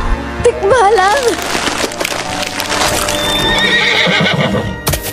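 A horse neigh sound effect for a tikbalang, a horse-faced creature, rings out loudly as a wavering whinny, followed by clopping, cracking and a dense, layered effects track.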